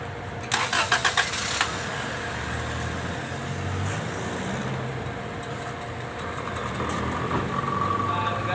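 A car engine cranks in quick bursts and catches, then settles into a steady idle, heard fairly close in an outdoor setting with background noise.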